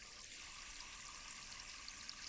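Cold water runs steadily from a Flextail Tiny Shower pump at a campsite in the New Forest, a continuous hissing spray at moderate level with no voices over it.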